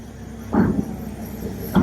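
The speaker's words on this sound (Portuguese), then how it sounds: "Esse caminhão aí que tá atrasando a saída da balsa, teve um problema mecânico e agora ele tá chegando por aqui." A truck with a mechanical problem pulls up to board a ferry in Patagonia, its low engine rumble steady, then swelling in two brief, louder surges.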